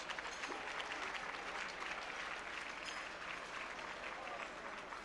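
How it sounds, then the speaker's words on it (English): A dinner audience at a Democratic Governors Association event in 1995 gives a steady, distant round of applause, a dense continuous wash of many hands clapping in a large room. "Let's give Katie a big round of applause."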